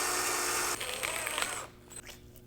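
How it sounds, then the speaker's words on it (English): A power drill boring all the way through a carrot to make a whistle, a close steady whine with a rough grinding edge that lasts about a second and a half and then stops, followed by faint handling noise. "And for this instrument, you're gonna wanna drill all the way through."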